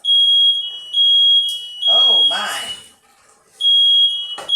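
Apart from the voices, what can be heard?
smoke alarm beeping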